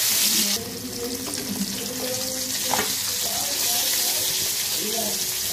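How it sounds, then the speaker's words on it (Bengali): Pangas fish frying in a pan with oil, a steady broadband sizzle and hiss running throughout alongside water-like bubbling, with faint voices and light clatter beneath. "আর এদিকে পাঙ্গাস মাছটা ভাজবো।"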